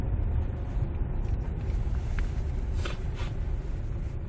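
Low, steady rumble of an idling 2005 Kia Sorento engine with 260,000 km, heard from inside the vehicle, even and unchanging.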